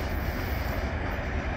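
A long CN freight train rolls west through the Pointe-Saint-Charles railyard, making a continuous, close, heavy rumble of wheels and cars with no break.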